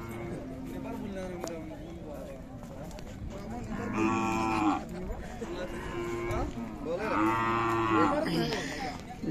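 Khillar cows low repeatedly at a crowded cattle market, with two loud, drawn-out moos standing out over steady crowd chatter and background talk.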